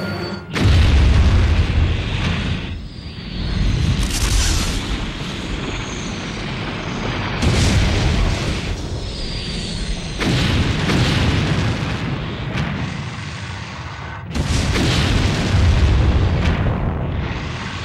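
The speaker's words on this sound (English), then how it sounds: "Sir! The main cannon is activating!" A starship's main cannon fires in the Robotech mecha anime: a series of heavy, loud booming blasts and rumbling bursts, several surging waves of explosive roar one after another, with no talk over them.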